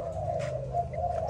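Malaysian spotted dove of a fighting-song line coos in a steady, droning tone, close and continuous over a low background hum, for a brief moment.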